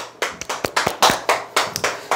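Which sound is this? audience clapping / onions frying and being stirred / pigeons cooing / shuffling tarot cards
audience clapping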